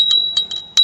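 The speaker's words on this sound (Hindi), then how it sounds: "हम घंटी बजा दी" A small bell rung during a Hindu worship offering, with bright metallic rings sounding in several short bursts, loud and close.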